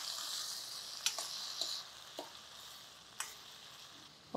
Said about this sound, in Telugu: ఓ 2 ఎర్రటి టమాటాలు వేసేయండి.